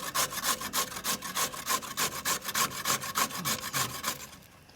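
Carrot grated by hand for a borscht seasoning, heard as a quick, steady run of close, scraping rub strokes, about three or four per second, with no talking, before the strokes slow and fade at the end.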